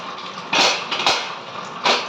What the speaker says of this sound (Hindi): इनको बर्तनों को साफ़ कर लेते हैं